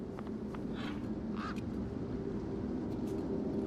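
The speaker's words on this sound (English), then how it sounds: "You see all these birds all over the place?" Birds in the video game Beyond a Steel Sky give a few short quacking squawks over a steady low ambient hum, brief calls spaced across the opening seconds.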